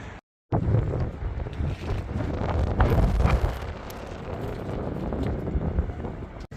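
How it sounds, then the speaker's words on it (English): Wind buffets the microphone outdoors at Manchester Airport, a steady, loud, broadband rumble with gusty swells that starts after a brief silent gap and continues to the end. "I mean, it's still windy."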